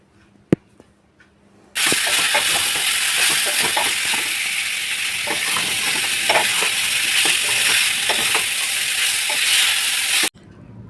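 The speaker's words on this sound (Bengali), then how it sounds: "সব সবজিগুলো একসঙ্গে ভালো করে নাড়াচাড়া করে নিয়ে 1 চামচ নুন দেব" Vegetables for Bengali dudh shukto sizzle loudly in hot oil as they are stirred in a pan, with scraping strokes ticking through a steady frying hiss that starts abruptly and continues for about nine seconds.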